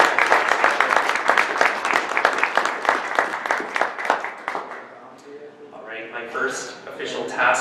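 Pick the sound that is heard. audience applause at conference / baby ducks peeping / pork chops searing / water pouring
audience applause at conference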